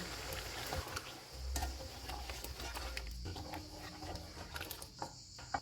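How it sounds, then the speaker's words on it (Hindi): Tomatoes and whisked yogurt are stirred into mutton karahi in a cooking pot, giving soft, irregular scraping and stirring sounds with a faint sizzle underneath, quiet and close. "इनको मिक्स करेंगे।"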